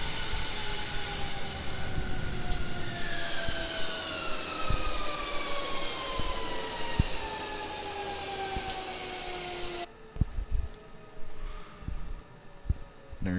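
An F-16 jet engine spools down after shutoff, with a loud, steady whine whose falling tones glide slowly lower before the roar cuts away, leaving scattered clicks and knocks.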